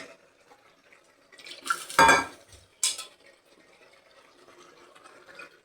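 A sauce bowl being rinsed in a kitchen, with a short burst of clattering dishware and splashing water poured in, then a second brief splash before quiet background returns.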